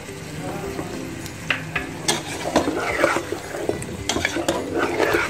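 Shinwari chicken karahi is stirred in a pan after salt and black pepper go in, with a steady sizzle underneath and repeated scraping and clinking of a utensil against the pan, close and irregular.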